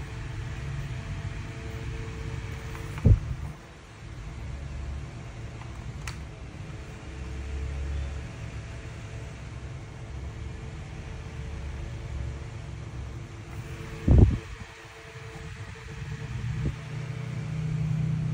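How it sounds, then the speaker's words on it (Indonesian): Mitsuyama MS-5544 desk fan running at speed level 1 while oscillating through 180 degrees, giving a steady airy whoosh and low hum, broken by two sharp clicks several seconds apart. "Kipas angin berotasi 180 derajat."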